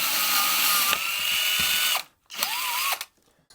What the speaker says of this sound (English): Let's mount up our Forstner bit.